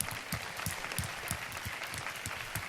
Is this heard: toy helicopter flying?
no